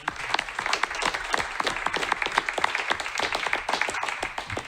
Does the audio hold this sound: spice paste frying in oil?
no